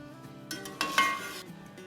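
Cauliflower and potatoes coated in masala are gently stirred and fried in a pan, with a spoon scraping and clinking against metal in a few close, distinct strokes over a soft sizzle. There is no talking.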